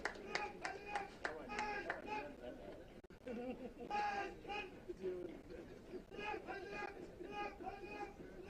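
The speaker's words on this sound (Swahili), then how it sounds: "Tuwashangilie kwa makofi tafadhali baada ya kutekeleza wajibu wao kwa muda mfupi sana waliopewa na kamanda wao." Applause from a crowd at a cadet commissioning parade, with rapid hand claps in bursts that briefly pause and then pick up again, heard close and mixed with chatter and voices.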